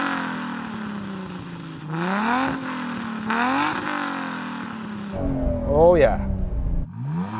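Toyota Supra with a 2JZ engine revving in repeated rising and falling pulls, loud and close, before a harsher blip at the end; someone speaks briefly over it.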